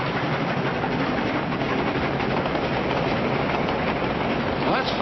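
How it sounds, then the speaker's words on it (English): A train rolls through without stopping, a loud, dense rumble and clatter of rail cars passing close by that holds steady and unbroken for the whole stretch. "Roy, that train isn't going to stop."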